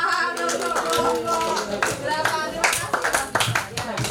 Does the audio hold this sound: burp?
no